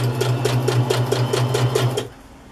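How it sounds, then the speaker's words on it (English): Sewing machine running a zigzag stitch on a loose-weave fabric collage, a close, steady rapid chatter of needle strokes for about two seconds before stopping abruptly. "I like to use the zigzag stitch because it prevents fraying"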